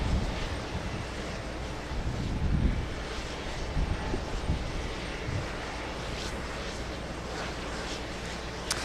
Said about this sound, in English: we have JetBlue taking off. JetBlue in A220.